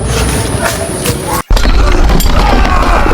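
A Dutch cannon fires in a historical Aceh war drama, producing a loud, heavy boom that bursts in after a brief silence and rolls on with rumbling noise.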